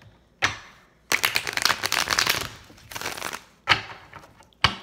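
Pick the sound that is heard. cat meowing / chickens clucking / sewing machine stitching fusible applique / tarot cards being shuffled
tarot cards being shuffled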